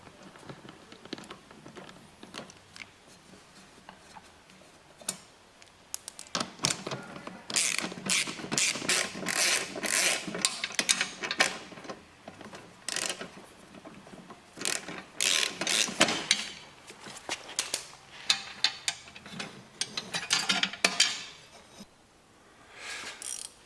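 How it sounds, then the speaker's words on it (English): Ratchet wrench on a John Deere lawn tractor, close and fairly quiet, in bursts of quick clicking strokes with pauses between, mixed with faint metallic handling noises. "I'll pop off these last 2 bolts, or maybe 3."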